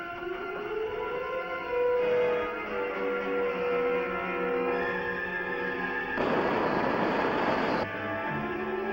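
A cartoon weapon blast fires from a spacecraft: a loud burst of roaring noise lasting about a second and a half, rising suddenly over a musical score and cutting off just as abruptly.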